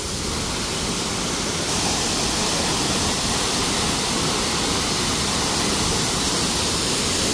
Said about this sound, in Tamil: இந்த நீர்வீழ்ச்சியிலே இந்த வர்ற தண்ணி இங்கே மட்டும் அடிக்குது